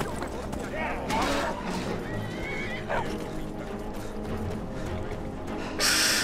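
A horse whinnies loudly over a busy soundscape in the video game The Elder Scrolls V: Skyrim, with hoof clops and other effects, and a voice talking at points.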